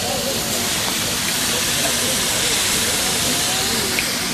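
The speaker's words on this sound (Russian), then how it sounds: "Жарят рыбу. Маринованная рыба." Continuous loud sizzling and crackling of marinated fish frying in hot oil, a steady hiss close by with faint background noise.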